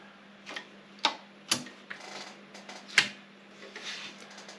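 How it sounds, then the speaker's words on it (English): An Olympia SG 3 electric typewriter types in scattered, irregular sharp clacks over a steady low hum, each key strike crisp and near, with no voices. "It's actually one of the best electric typewriters."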